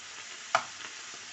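Chanterelle mushrooms frying in a pan with a steady hiss and crackle, and a brief scrape as they are stirred partway through.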